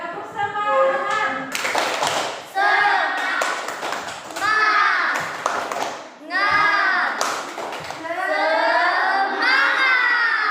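A group of schoolchildren in a classroom performs a rhythmic clapping chant, sharp claps in patterned bursts alternating with shouted chanted words, several repeated rounds close up and loud.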